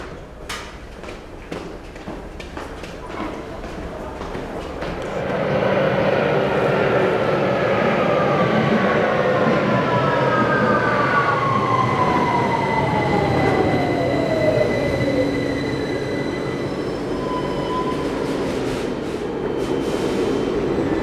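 A London Underground train rumbles in and grows loud, wheels squealing and screeching as it slows, with a steady roar filling the platform.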